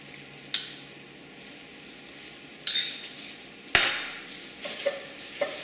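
Korean galbi rib marinade is stirred in a bowl, with soft wet mixing and a few sharp clinks of a utensil against the dish, quiet and close with no voices.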